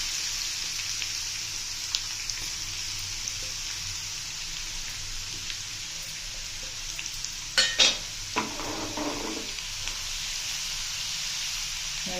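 Crushed garlic going into hot oil with mustard seeds and chana dal for dondakaya pachadi, a soft steady sizzle and frying hiss throughout, with a few brief spoon scrapes and clinks near the middle.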